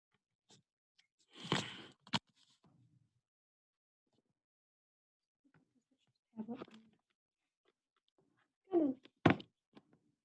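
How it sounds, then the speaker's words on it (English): A whiteboard is flipped over in a classroom, making a few scattered thunks and a rattling bump, with near silence between them. "let's see if I can flip this without destroying everything"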